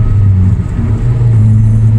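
Turbocharged car cruising in fifth gear on a 70 mph highway, a steady, loud low engine drone and road rumble from inside the cabin, with no talk.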